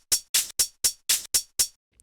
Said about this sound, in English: In 6/8 time, the beat falls on the first and the fourth eighth note of the bar.